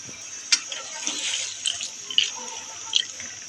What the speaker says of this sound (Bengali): এবার চুলায় একটি প্যান বসিয়ে পানি দিয়ে দেব।